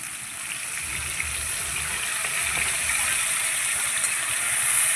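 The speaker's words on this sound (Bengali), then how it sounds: "মশলার বাটিটা ধুয়ে জল দিয়ে দেবো।" Water poured into a pan of spice paste while a spice bowl is rinsed out, a steady gushing, splashing stream with a faint low rumble, close and continuous, with no talk.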